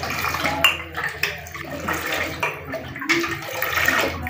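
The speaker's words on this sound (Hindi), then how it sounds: "अभी इसमें जी और पानी डाला जाएगा और दो जग बनाए जाएंगे है ना" Water is poured into a jug for lemonade, splashing and gurgling in uneven bursts close by, with light clinks of kitchenware between pours.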